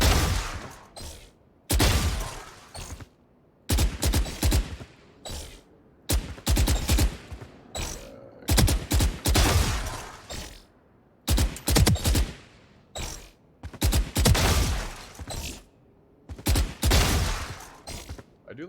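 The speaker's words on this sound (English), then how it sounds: "Okay, so I want to burst fire." Repeated bursts of gunfire in Valorant: sharp, loud clusters of shots fired in quick groups, with short silent gaps between bursts and a steady stop-start rhythm, close and with no voices over them.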